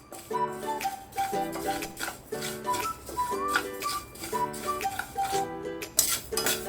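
Rice for chakli flour roasting in a pan, stirred with a metal spoon that clinks and scrapes against the pan in a quick repeating rhythm, close and clear.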